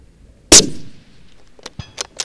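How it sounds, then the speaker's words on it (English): A single sharp rifle shot cracks loudly near the start, followed after a pause by faint distant metallic clangs from a 10-inch steel plate target being struck. "you heard the clang, I've hit the 10-inch disc"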